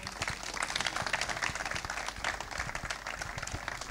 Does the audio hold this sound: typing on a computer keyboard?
no